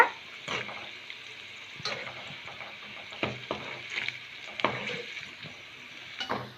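Bottle gourd pakoda bubble and crackle softly in hot oil, with a spoon or ladle clinking and scraping against the pan at intervals, close but quiet and without any talking.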